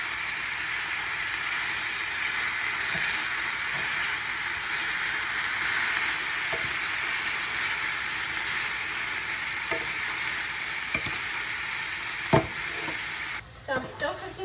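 Beet greens sizzle steadily in a hot pan, a continuous broadband frying hiss with occasional soft pops and stirring clicks, close and loud throughout, ending with a few scraping knocks.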